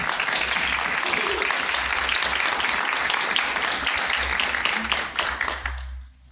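Audience applause fills a grand rounds lecture hall in a university department of medicine, a steady dense wash of clapping that holds for about six seconds before tapering off at the end, with faint voices underneath.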